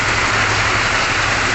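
Steady rain pours down at a pigeon racing training flight, a dense continuous hiss filling the scene with no breaks, loud and close throughout.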